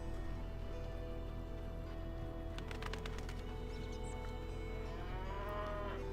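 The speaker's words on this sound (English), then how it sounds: "The cows we walked by" Cows mooing in the video game The Witcher, a steady layered farm ambience with low sustained lowing under a constant background bed, no speech.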